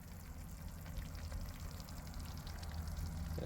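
A BBQ pie bubbling and sizzling on a gas grill at around 200 to 210 degrees, a steady crackling hiss with low rumble, close and continuous throughout without any talk.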